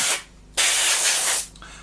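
An airbrush sprays paint into the intake tubes of a Trumpeter 1/32 F-14D Tomcat plastic model kit, giving a close, steady hiss in two bursts with a short pause between them.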